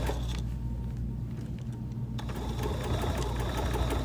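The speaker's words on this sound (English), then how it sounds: "And we're gonna sew this seam." A sewing machine runs continuously along a fabric seam for a wall bucket, a steady close whirring hum with a rhythmic needle chatter that grows slightly brighter midway, with no talking.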